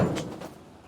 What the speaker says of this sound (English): to close this door